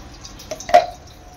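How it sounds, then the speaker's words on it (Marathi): A little ghee going into a kadai for a modak filling makes a couple of brief, quiet liquid drips or plops, close by, in an otherwise hushed kitchen. "कढईमध्ये आपण थोडंसं तूप टाकणार आहोत।"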